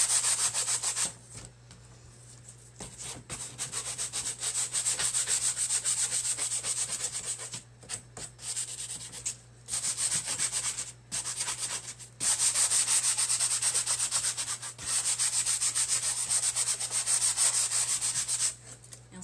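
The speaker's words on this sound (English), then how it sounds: "So we're just going to take our sanding block, and this is the medium to coarse sanding block from the Dollar Tree." A medium-to-coarse foam sanding block rubs back and forth over a wooden sign in steady, rasping strokes, close and fairly loud, with a few brief pauses between passes and no voices.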